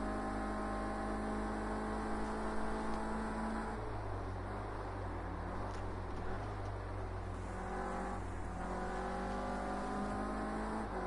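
Onboard sound from a Renault Clio Cup race car during a lap: a steady engine drone that shifts pitch through gear changes, with road rumble and no talking.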